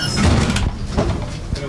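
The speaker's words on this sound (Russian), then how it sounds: "Покажіть, чи працює у вас аварійний вихід." An emergency exit door on a passenger route bus is opened, giving a few clunking, sliding thuds close by with people talking over them.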